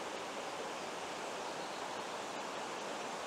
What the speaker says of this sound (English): This is a lovely spot on the river.